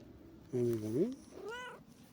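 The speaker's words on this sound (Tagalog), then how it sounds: "Pusa dito guys, so ang bait na naman niya, ang bait siya" A cat meows twice close by, a long drawn-out call followed by a shorter, rising one, with no talking over it.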